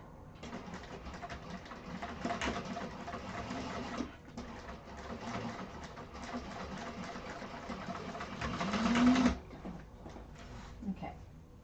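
Sewing machine top stitching fabric during a quilting class project, running in long steady bursts with a brief pause around four seconds and a louder surge near the end before stopping.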